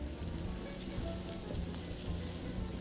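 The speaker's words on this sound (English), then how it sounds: "Let's just stir that up a bit." Cauliflower and mixed vegetables sizzling steadily in a hot pan while being stirred, a continuous close frying hiss with faint scraping, no talk.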